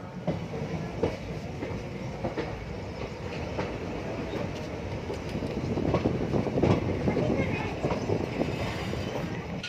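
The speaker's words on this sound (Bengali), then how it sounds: "সিংরৌলি রেল স্টেশন, অবস্থান মধ্যপ্রদেশে। খুবই ব্যস্ত রেল স্টেশন।" A busy railway station at Singrauli, Madhya Pradesh, with a train rumbling steadily and rising slightly in loudness, rail clatter and scattered clicks over a dense low roar, plus faint voices.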